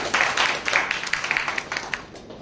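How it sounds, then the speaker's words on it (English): An audience applauds together at a speech evaluation meeting, a dense round of clapping with scattered sharp claps that swells, holds steady and tapers slightly over a couple of seconds, with no voices over it. "Let's give one more round of applause."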